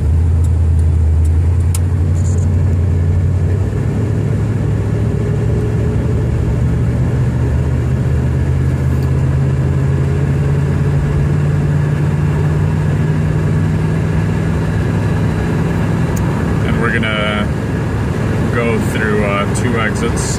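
A 1979 Buick Regal V8 coupe accelerates onto a freeway, its engine a steady low rumble and rising drone under constant road and cabin noise, loud and close from inside, with someone talking over it.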